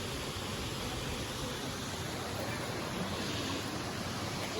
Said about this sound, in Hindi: ये रहा रानी झरना, ये रहा।